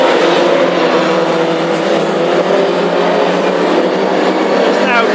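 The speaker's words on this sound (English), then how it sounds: "So your lead driver in there, revving well." A classic hot rod race car engine roars loudly and continuously at a heat on a racing circuit, with a commentator talking over the sustained engine noise.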